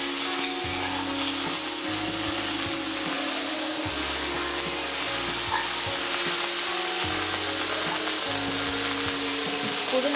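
Mint leaves sizzle and fry steadily in a pan for a green chutney, with the rhythmic scrape and clatter of stirring running throughout and no talk.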